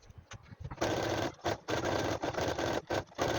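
A sewing machine stitches along the sides of an old saree lining, running in loud bursts of whirring with short pauses between runs.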